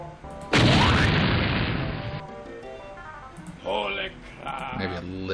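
An explosion sound effect from Klik & Play fires once with a sudden, loud, crackling blast that fades over about two seconds, and then a voice speaks.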